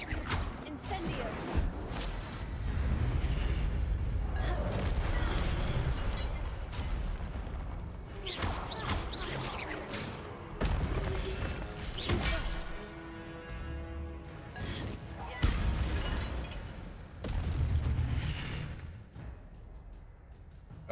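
Incendio fire spell cast in the Hogwarts Legacy video game, whooshing bursts and crashing blasts amid loud, dense combat sound with a voice talking over it.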